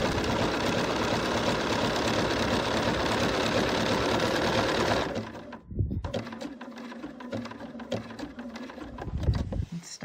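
A sewing machine stitches through a quilt in a steady, loud, close whir for about five seconds, then stops, leaving faint clicks and handling noises.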